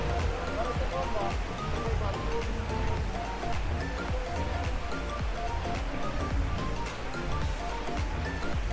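A waterfall at Villa Azarcon mountain resort in Tago, Surigao del Sur, Philippines, gives off a steady, broad rushing roar close by, with people talking faintly over the water.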